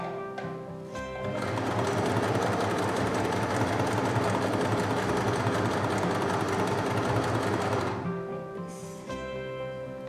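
A sewing machine stitching fabric runs in a steady, fast mechanical whir for several seconds, starting up after a brief pause and stopping near the end, close and clear with no talk.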